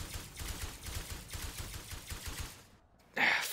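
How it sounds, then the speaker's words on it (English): Rapid automatic gunfire in the sci-fi game Osiris New Dawn, a steady run of about a dozen evenly spaced bursts over two and a half seconds, then a pause and a short sharp breath at the end. "He's shooting at something"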